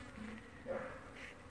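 Honey bees buzz steadily around a hive as a loose clump is coaxed back inside on a cold day, a continuous close insect drone with a brief brighter swell midway.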